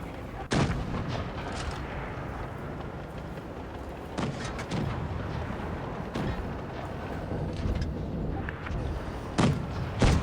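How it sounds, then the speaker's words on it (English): Tank cannons fire in World of Tanks Blitz during a battle between an IS and Panzer IV tanks, with several heavy booming shots spaced a few seconds apart over a steady rumbling battlefield background. "Unfortunate miss and only a track shot on that Panzer IV"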